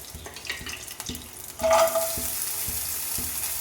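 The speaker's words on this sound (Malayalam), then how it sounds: "കുറച്ച് നെയ്യ് ചേർത്തിട്ട് കുറച്ച് നാളികേരം കൊത്തൊന്ന് വറുത്തെടുക്കാം" Coconut pieces sizzle and crackle in hot ghee in a pan, with occasional scraping stirs, a loud burst of frying partway through, then steady hiss.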